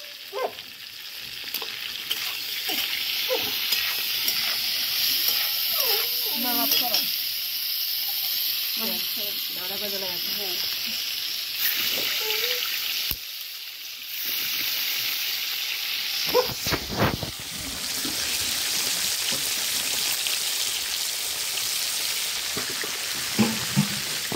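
Cauliflower fries in a pan of oil with a continuous loud crackling sizzle and occasional stirring, while a voice speaks briefly over it in the early part.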